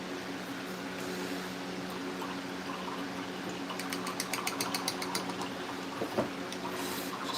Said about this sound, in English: Just gotta rinse off this paint